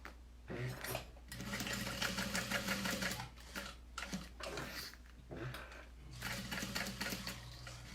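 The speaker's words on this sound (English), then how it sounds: "let's top stitch along that edge, 1/8 inch" A sewing machine top stitches along the edge of a minimalist wallet at 1/8 inch, running in steady bursts of motor whir and needle chatter with short pauses between runs, close and fairly loud.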